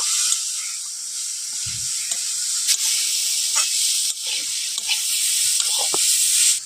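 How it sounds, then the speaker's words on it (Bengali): Kalmi greens cook with masoor dal, salt and ground spices in a pan, a loud steady sizzle broken by intermittent scraping stir strokes, with no talking. "আবারও কিছুক্ষণ একটু আমি নাড়াচাড়া করে নেব"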